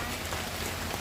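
Steady rain pours outdoors, a dense, even hiss that fills the whole moment without pause or voices.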